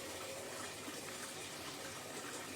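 Water is poured into egg curry masala in a pan, a steady soft gushing pour that runs through the whole moment, with no talking.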